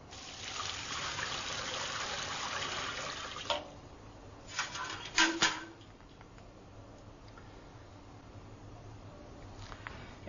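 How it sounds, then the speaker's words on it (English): Water pours steadily into a ring infiltrometer for a few seconds, then stops; a few short splashes and trickles follow against a quiet outdoor background. "Watch it started. Here comes the water."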